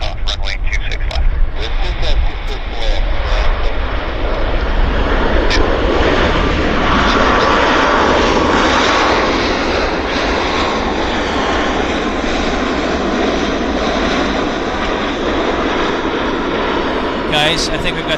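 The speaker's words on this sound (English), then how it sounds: "I think we've got the A340." An Airbus A340 airliner takes off at Vancouver Airport, its loud, steady jet-engine roar filling the whole stretch while a voice talks over it.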